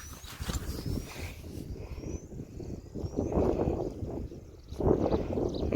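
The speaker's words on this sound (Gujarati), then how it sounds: "પવન ફૂલ એટલે ફૂલ પવન છે" Strong gusty wind outdoors after rain, a steady broadband roar buffeting the microphone and swelling in a few louder gusts over nearly six seconds, with no talking.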